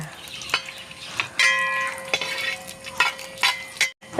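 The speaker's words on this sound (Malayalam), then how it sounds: "അപ്പോൾ അതിലേക്ക് നമുക്ക് ആദ്യം നമുക്കിതാ അണ്ടിപ്പരിപ്പ് മുന്തിരി വറുത്തെടുക്കണം" Cashew nuts frying in ghee in a pan for parippu payasam, a soft steady sizzle broken by clinks and scrapes of a spoon stirring against the pan, close by with no talking.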